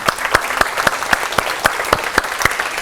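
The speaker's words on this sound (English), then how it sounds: "big round of applause for her" A small group in a research methodology class applauds a presenter, a few hands clapping in a steady rhythmic beat, roughly four sharp claps per second, close and moderately loud.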